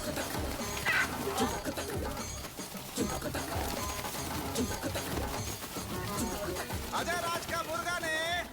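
Roosters fighting in a cockfight scene from a Hindi-dubbed film, with clucking and squawking bursts mixed into a busy, noisy crowd atmosphere and voices throughout.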